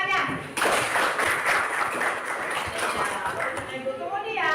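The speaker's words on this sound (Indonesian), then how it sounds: "Iya, bagus tepuk tangannya." Students in a classroom give a burst of clapping that starts abruptly and carries steadily for about four seconds, fairly loud and close, before fading out.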